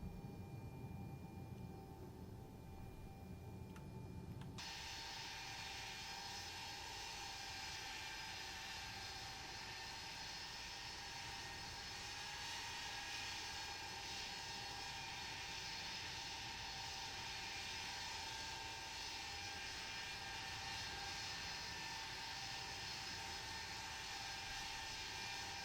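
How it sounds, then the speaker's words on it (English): A simulated aircraft takes off in the Prepar3D flight simulator game, giving a continuous engine roar with a whining tone that holds steady throughout and grows slightly fuller after the first few seconds. "I stop and wait for this aircraft to take off."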